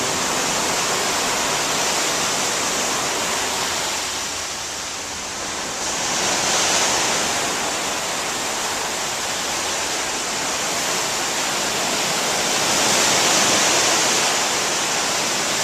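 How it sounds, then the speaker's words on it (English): Loud, continuous rushing of rough sea water off the Hebrides, rising into heavier surges twice as waves break, with no voices. "The sea appears to have picked up a little bit, it's a little rougher than it was earlier."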